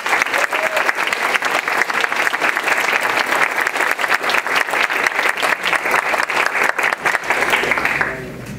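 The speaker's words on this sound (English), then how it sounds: "So big round of applause for these guys." An audience at a transgender community history roundtable gives the Dallas Way team a loud, sustained round of applause, dense steady clapping that lasts several seconds before tapering off.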